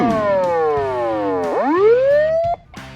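A Land Cruiser fire truck's second siren tone sweeps down in pitch, then swoops back up in a loud wail that cuts off abruptly near the end.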